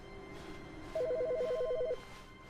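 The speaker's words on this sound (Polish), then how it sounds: "A telefon?" An office telephone rings in the video game The Stanley Parable, a single electronic warbling trill lasting about a second, fairly loud over a quiet background hum.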